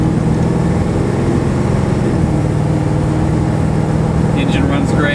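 A 1970 Ford Torino Cobra engine drones low and steady while driving, a continuous rumble inside the cabin with a voice talking over it.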